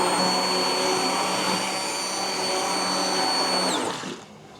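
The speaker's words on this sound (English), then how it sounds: "I'm going to use an immersion blender here." Immersion blender whirring steadily in a jerky cure marinade, a loud continuous motor drone held for a few seconds before it winds down and cuts off at the end.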